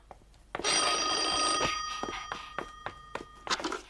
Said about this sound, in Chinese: 接电话啦！